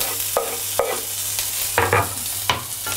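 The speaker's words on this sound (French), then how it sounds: "je vais verser ma purée" Aubergine purée hits a hot pan with sesame oil for a Sichuan-style dish, giving a steady loud sizzle with repeated scraping stirs from a utensil, close up and with no talking.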